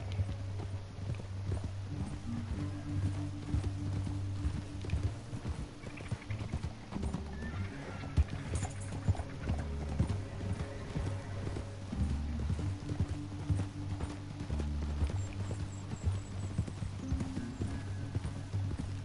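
Horses galloping in Red Dead Redemption 2, steady clip-clopping hoofbeats with an occasional whinny, fairly quiet and continuous with game ambience around them.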